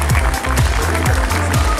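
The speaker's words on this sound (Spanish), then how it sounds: "Un fuerte aplauso a todo el personal primario." Applause for primary school staff at a school opening event, a dense wash of clapping from a gathered crowd with a low rhythmic thumping underneath, close and loud throughout.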